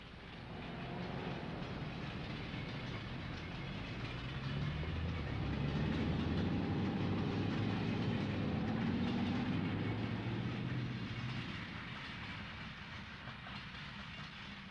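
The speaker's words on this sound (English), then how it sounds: "shows a train heading east on the back side of the shopping area along Mountain Boulevard" An eastbound train rolls along the back side of a shopping area on Mountain Boulevard in Montclair, a continuous distant rumble with clickety-clack that swells in the middle and eases off toward the end.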